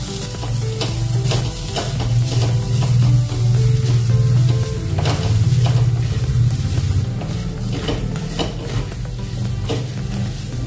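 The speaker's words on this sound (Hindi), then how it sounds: "प्याज को हमने अच्छे से 2 मिनट भून लिया है।" Onions fry with a steady sizzle in a pan while a spoon scrapes and stirs in repeated strokes, close and fairly loud, for a wedding-style aloo baingan sabzi, with no voices.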